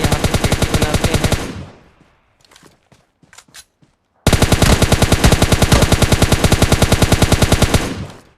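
Rapid automatic gunfire from bots in a shooter video game rattles in long, loud bursts, breaks off into a few scattered shots and near silence, then resumes in another sustained burst.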